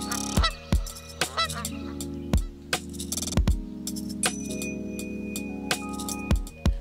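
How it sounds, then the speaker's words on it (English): Territorial, aggressive geese honk in a nature area, a series of loud, nasal calls repeated at irregular intervals, some overlapping, fairly close and with no talk. "With the geese being as territorial and aggressive as they are, we made it sure to keep our distance."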